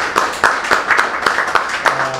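An audience at a book launch in a bookshop claps in welcome for a family music trio, a short burst of scattered, moderately close handclaps.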